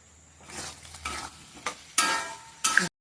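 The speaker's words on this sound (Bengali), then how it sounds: "এবার আমি খাসির চর্বিটা দিয়ে দিলাম, দিয়ে এবার কষাবো এটাকে।" Potatoes frying in rendered mutton fat in a pan, sizzling loudly while being stirred in several bursts of scraping over about three seconds.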